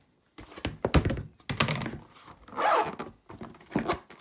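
Several bursts of zipper sound close up, a Jimmy Choo shoe being unzipped in short rasping pulls separated by brief pauses and soft handling thumps.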